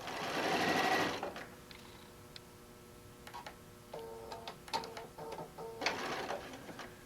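Sewing machine stitching across a quilted panel pouch: faint steady ticking stitches with a louder whirring burst at the start and another near the end, quiet overall, no voice.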